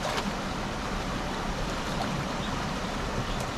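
Steady, strong rush of water released from a reopened dam after heavy rain, a broad continuous roar that stays even throughout with no voices.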